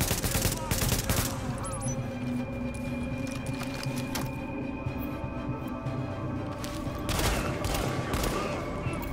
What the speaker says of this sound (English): that just sounds like a shotgun.